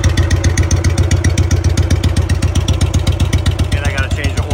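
A Trav-L Vac 300 engine with a completely shot muffler runs close and loud, a rapid, even, clattering putter with a harsh raspy exhaust beat that holds steady throughout.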